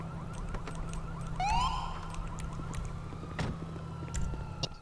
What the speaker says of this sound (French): C'est qui les sirènes là?